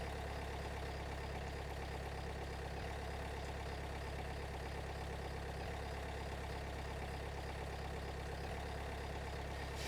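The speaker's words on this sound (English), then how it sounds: "Car is started." Car engine idling steadily just after starting in a video game, a constant low drone with a faint rhythmic pulse, unbroken for the whole stretch with no talk.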